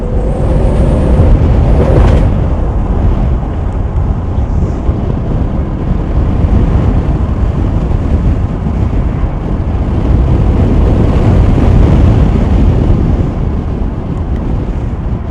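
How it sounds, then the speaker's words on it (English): Heavy wind buffets an open AMG V12-powered single-seater driving on the Autobahn, a loud continuous roaring rush that swamps the engine, with no talking. "you can't hear that V12 very well because of all the wind"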